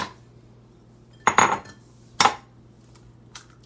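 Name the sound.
egg being cracked for banana bread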